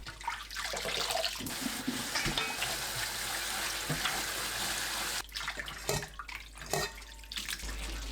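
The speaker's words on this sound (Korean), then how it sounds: "2시간 후 찬물에 헹굽니다. 3, 4번 헹궈주세요." Boiled dried greens, including siler shoots, are rinsed in cold water, with a continuous close rush of running water and splashing, sloshing as the greens are stirred by hand.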